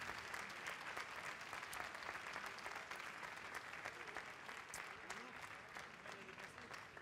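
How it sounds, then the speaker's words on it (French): An audience applauds three competing bakers at a bread trade event, a steady even wash of many hands clapping, fairly distant and faint, continuing without a break. "de saluer nos 3 boulangers avec les applaudissements"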